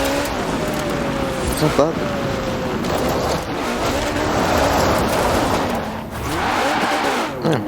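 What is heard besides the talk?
Ferrari 575M Maranello engine in Forza Horizon 4 video game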